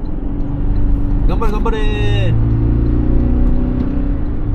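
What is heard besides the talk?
Toyota Land Cruiser 250 full acceleration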